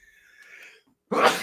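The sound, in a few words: sneeze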